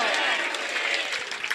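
Loud, dense applause from an audience at a Hindu spiritual gathering honoring a guru, steady and continuous with some crowd voices mixed in.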